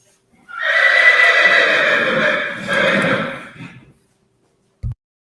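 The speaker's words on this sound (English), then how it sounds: "Lily is an 11-year-old grade quarter horse mare" An 11-year-old grade quarter horse mare gives a loud, close whinny that rises and wavers for about three seconds, then stops, followed by a single short thump.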